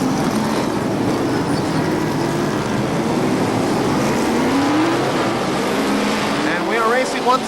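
ARCA SuperCars racing at KilKare Speedway after the green flag, engines roaring loud and continuous as the pack passes, with a rising whine near the end, under a commentator's voice.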